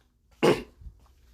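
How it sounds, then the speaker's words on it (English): One sharp, close cough bursts out and fades quickly, leaving near silence with a faint low rustle afterward. "Issei coughs into his throat."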